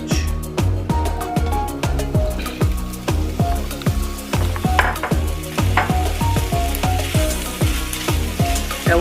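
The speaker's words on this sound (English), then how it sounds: "So I've got my pan over here, it's heating up. I'm gonna go in with my sausage." Sausage fries in a hot pan with a constant sizzle, broken by a quick, regular run of stirring knocks and scrapes, close and clear with no talk.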